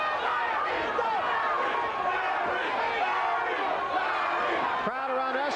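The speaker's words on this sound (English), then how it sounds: "Crowd around us chanting, Larry, Larry" Boxing arena crowd at a heavyweight title fight chanting a fighter's name, a steady roaring wash of many voices throughout, loud and continuous, with a commentator's voice talking over it.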